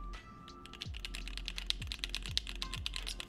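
A custom mechanical keyboard is typed on at a steady, quick pace, producing crisp, close clicks and clacks over a low background hum, with no one talking.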